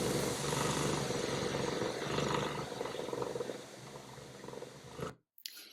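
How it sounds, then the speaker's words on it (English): A cat purrs with its mouth closed, a steady rumbling drone that holds for about five seconds before cutting off into silence. "The first one here is a purr."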